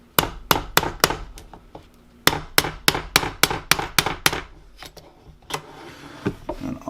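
A brass hammer taps out a pin on a Ruger 10/22 rifle in sharp, close metallic strikes, first in a quick run, then after a pause in a longer steady series, and ending in softer scattered taps.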